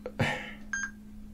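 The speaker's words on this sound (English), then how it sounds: "You'll hear the video camera go beep," A quiet click is followed by a short electronic double beep from a Lumix FZ2000 camera starting video recording, close by and brief.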